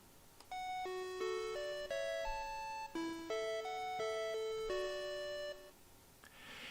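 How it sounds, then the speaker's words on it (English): A Panasonic electronic door chime like the one at a Family Mart store plays a bright melodic tune of about a dozen clear bell-like notes at a steady pace, alone in a quiet room, then fades out. "that is the door chime"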